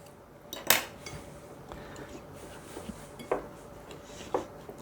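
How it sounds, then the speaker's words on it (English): A utensil chops butter into a crumbly cornbread and apple crisp topping, making scattered sharp clinks and taps against a dish, a few louder strikes among softer scraping, close by with no talk. "I'm trying to get most of that butter chopped up as I can in here."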